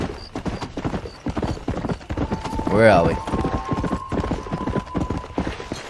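Horse hooves clip-clop in a quick, steady rhythm in the Western video game Red Dead Redemption, and a horse whinnies midway. Someone talks over the hoofbeats, and a faint tonal hum runs underneath.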